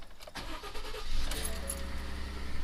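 A 2.7 EcoBoost Ford F-150 pickup cranks and fires up, followed by a steady close engine rumble settling toward idle, with a faint jingle of keys beforehand.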